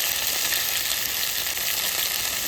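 Spices with salt and turmeric are sautéed in a pan with taro, a loud, dense, unbroken sizzle close up with no pause throughout.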